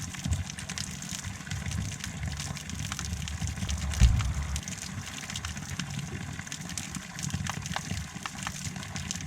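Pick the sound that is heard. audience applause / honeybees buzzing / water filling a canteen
water filling a canteen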